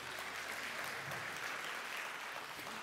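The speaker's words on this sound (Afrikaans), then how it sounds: "Geef die orkes 'n lekker hande klap toe." A church congregation gives the orchestra a round of applause, steady dense clapping throughout at moderate distance.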